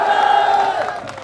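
Rally crowd at a large public meeting in Chauhtan, cheering and clapping in a loud sustained roar that thins slightly toward the end.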